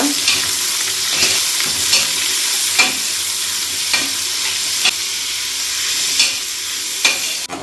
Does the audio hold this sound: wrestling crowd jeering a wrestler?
no